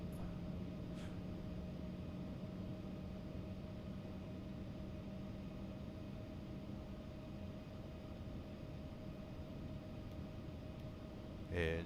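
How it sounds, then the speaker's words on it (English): Engine 2 of an Embraer E175 spools up in the X-Plane 12 flight simulator, a steady, faint, continuous jet whine and rumble that holds level for several seconds with no talk over it. "engine 2 coming up."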